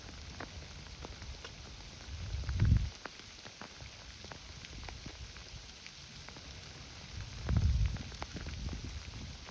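Hail falls while someone walks through a park subdivision: a steady patter of small, sharp ticks on surfaces, with two brief louder rustles nearby, and no talking.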